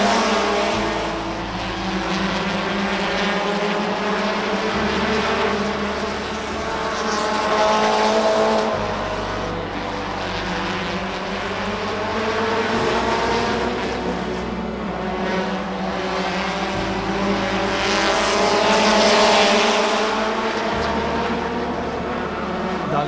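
Race cars from a drag racing event roar steadily and loudly throughout, with engine tones rising and falling as they pass, under a faint murmur of voices.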